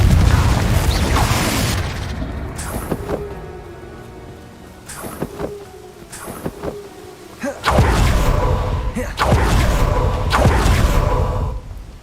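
Fiery Confringo spell blasts in the Hogwarts Legacy game, several booming bursts with whooshing tails striking in quick succession, loud and close over a rumbling battle backdrop.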